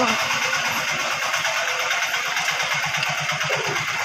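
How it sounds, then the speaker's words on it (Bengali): A motorised engine van runs close and loud, its engine knocking in a fast, steady, rhythmic thump that continues unbroken throughout. "ইঞ্জিন ভ্যানের এমন আওয়াজ যে মাথা ধরে যায়"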